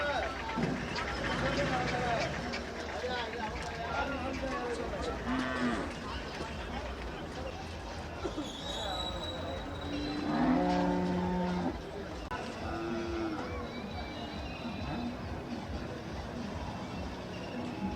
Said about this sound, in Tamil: இது சிந்து மாடு அண்ணா சிந்து மாடு